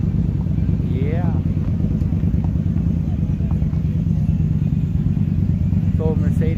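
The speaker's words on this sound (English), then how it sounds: "A couple bikes pulling in" Motorcycles pulling into an outdoor car show cruise-in rumble with a steady low engine drone throughout, close and loud, with brief higher revving sweeps near the start and end.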